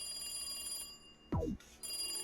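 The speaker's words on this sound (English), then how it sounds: "The phone rang suddenly." A telephone rings in the Higurashi visual novel game, a brief electronic tone with a falling sweep set against steady background music.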